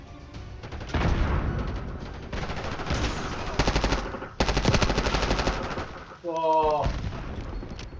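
Bursts of automatic gunfire and a grenade in Call of Duty form several dense, loud volleys with brief gaps, ending in a sharp tonal game sound effect, while a player briefly exclaims.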